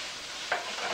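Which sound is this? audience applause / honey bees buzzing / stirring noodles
stirring noodles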